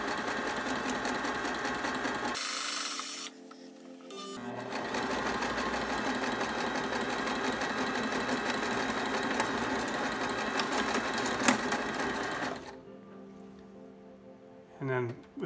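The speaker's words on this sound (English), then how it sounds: "When I get down to the bottom, I'm gonna do a reverse stitch" Sewing machine running steadily while stitching a cushion for a van or RV, finishing with a reverse stitch; a continuous close mechanical whir with a brief pause near the start and stopping near the end, with some talk over it.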